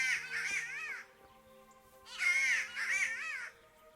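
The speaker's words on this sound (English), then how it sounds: "You are a very loud, obnoxious bird." Loud crow caws in a hunting video game, two harsh bursts of repeated calls separated by a quieter gap, over a steady low tonal game hum.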